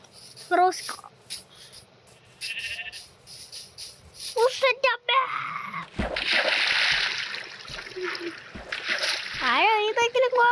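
A game character falls into water in the Build Craft video game, making a broad splash partway through. Game sounds, animal bleats and a voice come and go around it.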